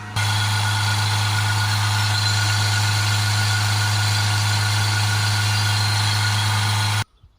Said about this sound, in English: I can use this pedal depressor to hold the revs at 3000